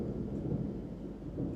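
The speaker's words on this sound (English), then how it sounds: "It's currently raining outside right now, so I'm sorry if you can hear the constant like rumbling and thundering." Steady low rumble of thunder during rain outdoors, a continuous soft roll without sharp cracks, heard from indoors at a moderate distance.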